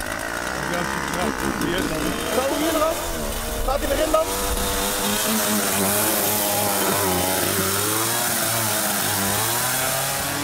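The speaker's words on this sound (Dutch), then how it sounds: "dan zaag ik even het bovenkantje eraf" A saw cuts the top off a piece, its loud, steady buzzing whine running for most of the stretch while people talk over it in Dutch.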